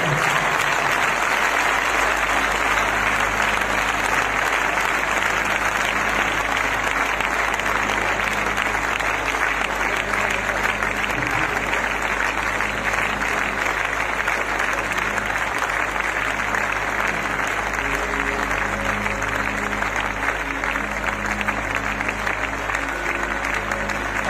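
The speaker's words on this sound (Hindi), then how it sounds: "आपकी जोरदार तालियों से श्रद्धांजलि मेरे राजू भैया के लिए।" Audience at an anniversary event clapping as a tribute for a long stretch, a loud, sustained wash of many hands over a low steady hum, with no talk.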